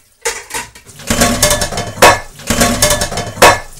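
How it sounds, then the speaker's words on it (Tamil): Metal kitchen vessels rolling and clattering in a miniature village kitchen, a series of loud, close metallic crashes and clanks in uneven bursts with ringing tails. "உங்க வீட்ல இருந்து பாத்திரம் உருண்டாடுற சத்தம் கேக்குது"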